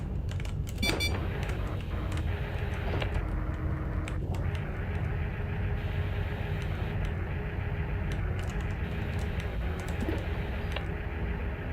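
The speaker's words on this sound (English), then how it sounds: "Typing and driving. Don't do it." Computer keyboard typing in the game Duskers: scattered clicky keystrokes sitting over a steady low droning hum, fairly quiet and continuous, with no voice.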